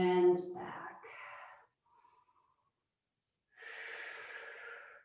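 Deep, audible breaths during a guided stretching exercise, a loud snorting inhale-exhale at the start, a faint breath in the middle, then a long airy exhale near the end.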